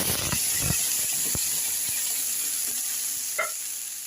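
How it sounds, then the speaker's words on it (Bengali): Onion paste frying in a pan of hot oil with spices, a steady close sizzle broken by a few soft stirring knocks and scrapes, with no voices. "এই পেঁয়াজ পেস্টটাকে এখন আমি ভাজতে থাকবো।"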